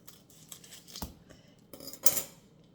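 A block of cream cheese package is cut open for pumpkin bar icing, with faint crinkling and snipping of wrapper, a sharp click near the middle and a louder rustling burst toward the end, close and quiet.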